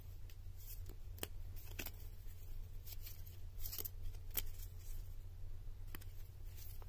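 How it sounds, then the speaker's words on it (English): A deck of Pokemon trading cards is shuffled close by, with quiet, irregular flicks and riffling snaps scattered over a steady low hum and no talking. "We're going to shuffle."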